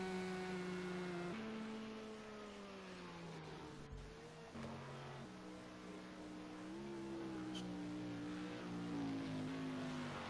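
An LMP prototype race car passes on the track at Le Mans in the rain, its engine note rising and shifting pitch through gear changes over a continuous wet-track hiss.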